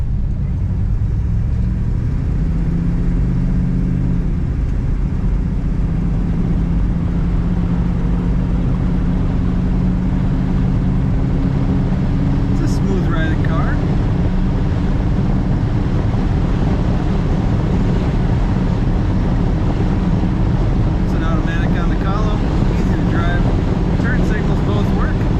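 A 1955 Ford Fairlane Crown Victoria accelerating up to speed on the road, a loud continuous engine and road drone with wind buffeting, rising steadily, and faint voices in the cabin.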